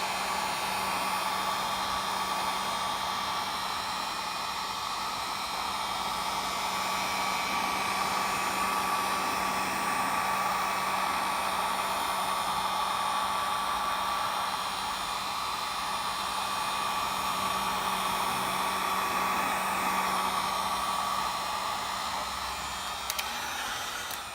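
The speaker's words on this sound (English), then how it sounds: "we're gonna take the heat gun and heat up" A heat gun blows a constant airy roar with a steady whine onto a Lexus IS300 car fender with cracked paint during fender rolling, sustained and unbroken, with no talking.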